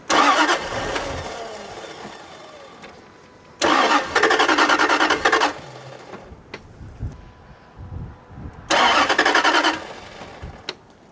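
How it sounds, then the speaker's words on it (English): A Jaguar XK8 engine, with half its cylinders disabled during fuel injector testing, cranks in three separate bursts, each a loud whirring churn lasting a second or two, with quieter engine sputters between attempts. "it almost starts with half the engine disabled"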